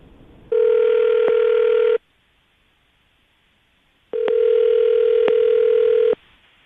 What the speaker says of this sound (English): Joseph, you ready to call her?